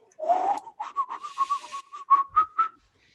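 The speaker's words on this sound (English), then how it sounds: "That's my whistle." A person whistles a short, wavering tune of about ten quick notes, close and clear, with no talk over it.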